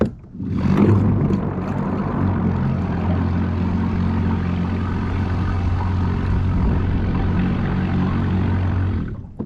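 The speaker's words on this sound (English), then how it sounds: "you guys could hear and see that the prop cavitates and does that" The propeller of an Old Town Sportsman 106MK motorized fishing kayak, running in full reverse on the water, cavitates with a loud, continuous churning whir and low droning hum that starts abruptly and holds steady for several seconds before cutting off.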